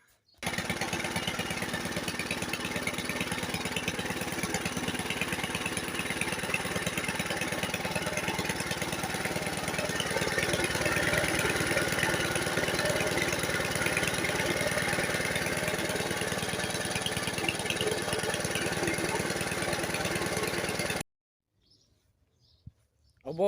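A vintage lawn mower engine, found in the woods and lacking a throttle spring, runs steadily and loudly for about twenty seconds and then cuts out, with birds faintly audible behind it.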